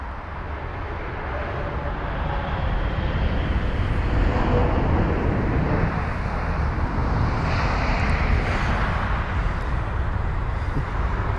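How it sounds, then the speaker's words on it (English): A United Boeing 777-200ER inbound from San Francisco lands at London Heathrow; a broad, steady jet engine roar with wind rumble holds throughout at a loud, even level. "It's the Boeing 777-200ER with the reg November 37018 from San Francisco"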